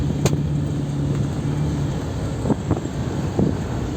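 Riding inside a car on a trip, a steady engine and road drone fills the cabin along with wind noise, and a few soft knocks and bumps break through.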